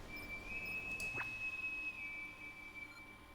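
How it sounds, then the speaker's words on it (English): A sustained high whistle tone in a video game, one clean steady note that starts after half a second and holds for over two seconds above a quiet background. "Oh, I just heard that whistle."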